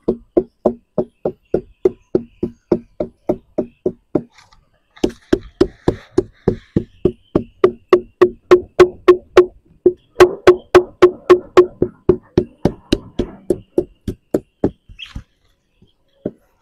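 Steady, repeated knocking on the flower stalk of a sugar palm (aren), with dozens of sharp woody taps in a regular rhythm, a short pause, then a faster, louder run of strikes close by.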